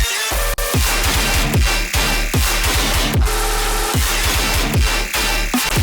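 A heavy dubstep drop with pounding bass hits and chugging distorted metal guitars locked to a fast, punchy rhythm, loud and dense throughout.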